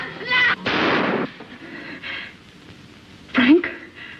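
A gunshot rings out in a 1964 sci-fi film scene, a sharp loud burst followed by a second report, amid tense shouted dialogue.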